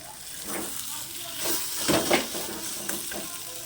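A vegetable mixture for vegetable chops is dry-fried in a pan, with a soft continuous sizzle and hiss and a few louder stirring scrapes in the middle.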